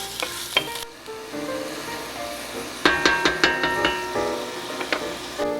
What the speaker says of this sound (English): Adding your onions and your garlic. And you're going to want to saute that for a few minutes.